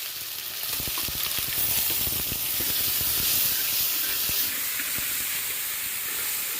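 Garlic and ginger paste, with cinnamon, cloves and star anise, sizzles steadily in hot oil for a pork fry, a dense close hiss with crackling pops running throughout.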